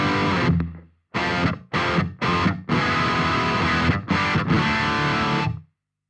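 Distorted electric guitar runs through a BOSS Tube Amp Expander set to small room mic mode, played as loud, close chords and short choppy stabs with abrupt stops, ending in a sustained ringing chord; no talking.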